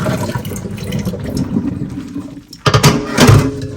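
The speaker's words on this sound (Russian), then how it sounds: "Промыть фасоль." Water runs and splashes while soaked beans are rinsed after draining off a baking soda soak. A steady close trickle turns into louder splashing bursts near the end, with no talking.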